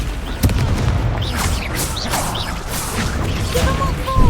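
Confringo fire spell explosions in Hogwarts Legacy, booming blasts and crashes layered over game effects and music, with a brief loud impact early on.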